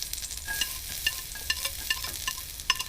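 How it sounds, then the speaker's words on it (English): Meat sears in a wok with garlic and chilli, a close crackling sizzle broken by sharp rhythmic stirring knocks and scrapes, with no voices. "and then the meat, and we'll sear the meat"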